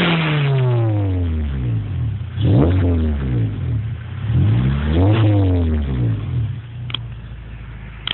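A 2007 Honda Civic Si with a Borla exhaust revs in neutral, heard from outside the car. The engine climbs and falls in three loud, close swells over a steady idle.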